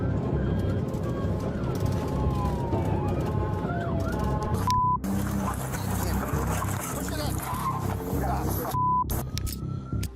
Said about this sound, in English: but Charles sped away as soon as he noticed the lights and sirens.